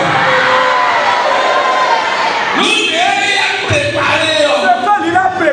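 A Sunday mass congregation shouts out together in a loud, dense swell of voices, with cheering tones rising and falling over a continuous crowd roar.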